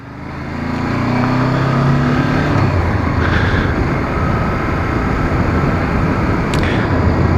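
A 2013 Honda CB500F motorcycle cruises at about 50 km/h with the throttle closed. Steady, loud road and wind roar covers a low engine hum throughout, with no voices.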